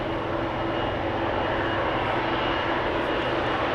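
An airliner departs Amsterdam Schiphol Airport, its engines giving a loud, steady broadband roar that stays constant throughout, with no voices over it.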